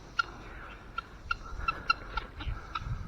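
A guinea fowl calling in a garden, a series of short repeated sharp chirping cries at irregular intervals, moderately close over quiet background noise, without talk.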